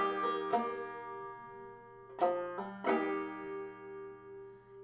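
A few plucked clawhammer banjo notes, including a hammer-on on the fourth string, ringing out close and clear, with sharp attacks and sustained twangy tones between them.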